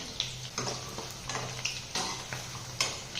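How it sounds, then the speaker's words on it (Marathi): Rice bhaji fritters made from leftover rice frying in hot oil over a medium gas flame, a steady sizzle broken by several sharp clatters as they are stirred, with no talking. "ही भजी मस्त अशी तळून तयार झालेली आहे."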